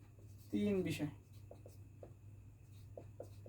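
Pen scratches on paper while a problem is worked out, as a short burst of writing strokes followed by softer intermittent taps and scratches, with a voice speaking over them.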